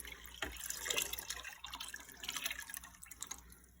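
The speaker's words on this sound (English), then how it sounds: "Then what I'm gonna do is simply pour in the beaker like this." Liquid poured from a beaker into a pumpkin rum mash, giving a close, splashy trickle with scattered drips and small surges, and no talking.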